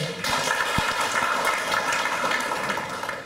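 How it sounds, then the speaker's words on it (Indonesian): An audience breaks into lively applause at the opening of a radio-spectrum licensing outreach session in Malang Regency. The clapping starts abruptly and holds a steady, crowded patter until it fades slightly at the end. "Boleh beri tepuk tangan yang meriah?"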